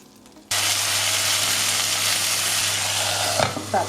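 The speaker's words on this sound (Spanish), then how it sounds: "pasar la brocha por las alitas e ir sellando y volteando cada momento" Sugar-glazed chicken wings searing in a hot pan while being brushed and turned: a loud, constant sizzle bursts in after a quiet half-second and holds, with a few clinks of utensils near the end.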